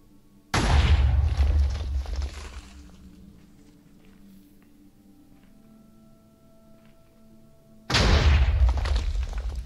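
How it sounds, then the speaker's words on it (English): Blocky TNT explosions from a launcher in Minecraft Java 1.17, two loud booming blasts several seconds apart, each with a long rumbling tail fading into quiet between them. "Alright, so as you can see, it does some good explosions here."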